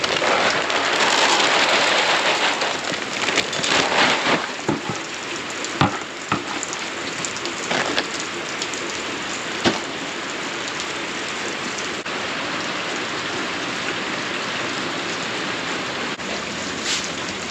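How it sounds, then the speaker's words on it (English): Heavy rain falls steadily on a farm, a dense continuous roar with a few sharper drops striking nearby surfaces, loud and unbroken throughout. "I hope you guys can hear me over the rain all right. I know it's kind of loud in the background"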